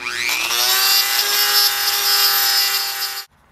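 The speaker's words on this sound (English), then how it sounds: "going back and grinding out what I need to" A grinder whines steadily and loudly while grinding out a square hole in an old rusted Vulcan anvil, a bright sustained tone with rising pitch at the start, cutting off abruptly near the end.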